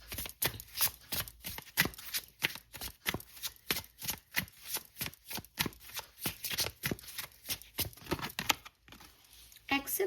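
Tarot cards riffled and shuffled by hand in a quick, regular run of crisp papery slaps, close to the ear, with a brief pause and softer handling near the end.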